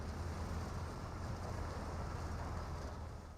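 A boat engine in the battle royale game BGMI, a steady low droning rumble with broadband water-like rush, continuous and fairly loud with no talk over it.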